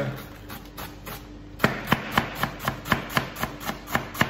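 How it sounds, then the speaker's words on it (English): A kitchen knife chops lettuce for a burger on a board, starting with soft rubbing scrapes and then a steady series of about ten crisp, evenly spaced chops, close and alone with no talk. "Now, chopping lettuce"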